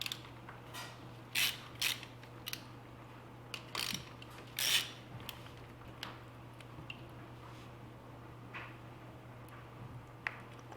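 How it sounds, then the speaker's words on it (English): Loosening the oil filter cover on a 2020 KTM 790R motorcycle: a few sharp ratchet clicks and brief metallic ticks close by, spread irregularly over a steady low hum, with no talking. "We'll go ahead and get the filter cover loosened up."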